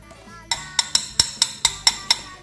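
A melamine cup tapped eight times in quick succession, each strike a sharp, close clink with brief ring-out, over a faint background.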